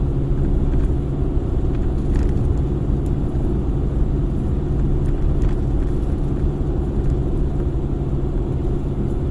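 A car engine pulls steadily up a hill in second gear around 2000 RPM at about 40 km/h on a bypass road in Gumaca, a loud, continuous low rumble with faint road whir and no voices.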